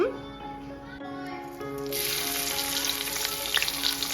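Fennel seeds, ginger and garlic hit hot oil, and a sharp sizzle swells midway and stays bright and crackling, with a voice talking over the start.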